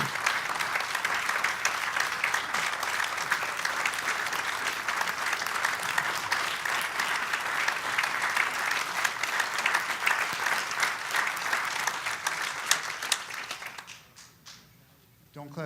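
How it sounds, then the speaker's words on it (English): An audience gives sustained, dense applause for a retired ATF agent being introduced at a church 9/11 memorial service, steady and full for about fourteen seconds before fading out abruptly. "Don't clap too much till you hear my presentation."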